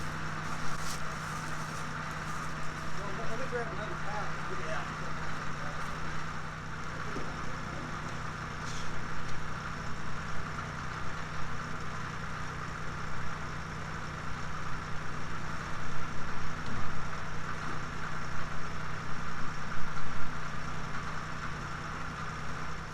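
A tractor engine idles in a steady, continuous low hum with an even mechanical drone, moderately close and without speech over it.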